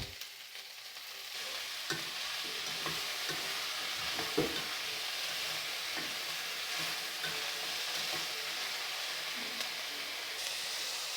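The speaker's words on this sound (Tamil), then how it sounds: "இதை நல்லா ஹை ஃப்ளேமில் வச்சு வதக்கினா நல்லா டேஸ்ட்டாக இருக்கும்" Capsicum and onion sauté in a pan over a high flame, a loud, steady sizzle with frequent scraping and stirring knocks from the spatula throughout.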